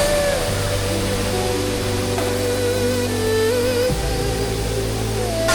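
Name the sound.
waterfall in a village, Furongdong, China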